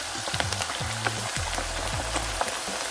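Chicken wings frying in hot grease, a dense steady crackle and sizzle with scattered pops, close and fairly loud, under a low background hum with no talking.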